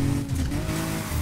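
A car drifts in the racing game Need for Speed Heat, with a loud, continuous engine drone and sustained tire squeal filling the short burst without pause.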